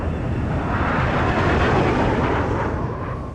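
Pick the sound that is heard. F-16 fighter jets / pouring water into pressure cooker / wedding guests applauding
F-16 fighter jets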